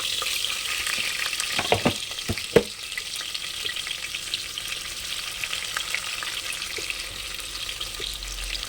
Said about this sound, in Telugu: ఆనియన్స్ కొంచెం బ్రౌన్ కలర్ వేసేంత వరకు వేయించాలి.